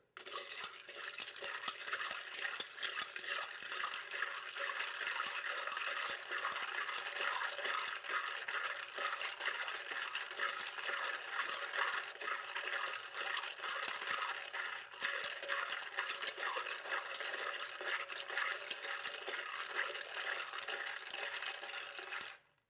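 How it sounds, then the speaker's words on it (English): A bar spoon stirs clear cocktail ingredients over ice in a mixing glass for a Black Feather cocktail, a steady, quiet, continuous clinking and swirling that runs for about twenty seconds with no talking. "we're going to stir it"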